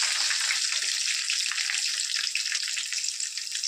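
Crushed garlic tempering fries in a pan on low flame, giving a loud, close, continuous sizzle and crackle with no talking.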